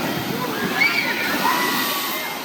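Water sloshing and splashing at a shoot-the-chutes ride with one big drop at Six Flags America, a steady wash of spray heard from nearby, with people talking faintly under it.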